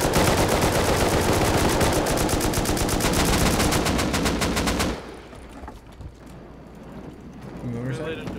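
Rapid automatic gunfire in the Rust video game, a dense stream of loud shots for about five seconds that cuts off abruptly, followed by quieter game ambience with faint talk.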